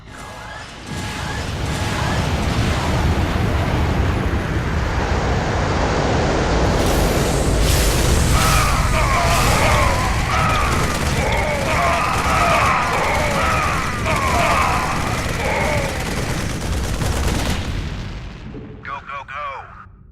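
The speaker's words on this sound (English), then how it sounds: "Now we'd like to show you the drop pods. This special ability allows the Ghost to summon squads of infantry anywhere he wishes." Terran drop pods slamming down to deliver infantry squads summoned by a Ghost in StarCraft II: a loud, sustained barrage of booming impacts and roaring blasts, with a narrator speaking over much of it.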